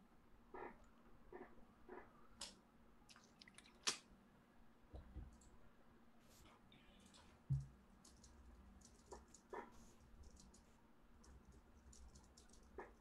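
Faint keyboard typing during an online chess stream: scattered light clicks and taps in irregular bursts, quiet and close, with an occasional louder knock.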